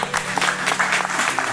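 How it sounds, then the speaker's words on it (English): An audience in a large university lecture hall claps at a matriculation ceremony, a dense, even burst of many hands at close to moderate distance, sustained and fairly loud. "Please, word of applause."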